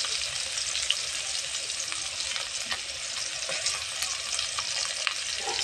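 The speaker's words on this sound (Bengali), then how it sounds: "তারপর আমি তেল দিয়ে গরম মশলা দিয়ে দিলাম, তারপরে আদা বাটা, পেঁয়াজ বাটা, রসুন বাটা দিয়ে দেবো।" Garam masala with ginger, onion and garlic paste fries in hot oil in a kadai, giving a steady, close, loud sizzle with faint stirring scrapes throughout and no voices.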